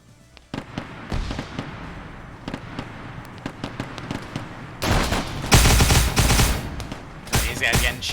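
Gunfire in an Arma military operation on Tembelan Island: scattered sharp shots at first, then dense, loud bursts of rapid fire and a final volley near the end, with faint voices beneath.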